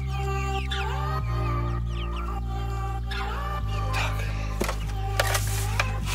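Chicks and hens cluck and cheep steadily around feed scattered on the ground in a farmyard, with a constant low background hum.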